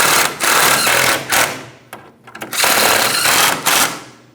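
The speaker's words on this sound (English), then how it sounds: "All pieces of hardware are started in. Let's snug and torque these first" Close, loud bursts of a power tool snugging Ford Transit lower control arm hardware, with several buzzing rattling runs broken by a short pause in the middle.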